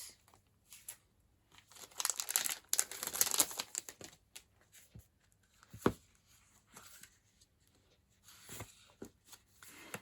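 Sticker sheets crinkle, rustle and tear softly in scattered bursts close by, with a denser flurry of crinkling early on and brief taps between quiet gaps.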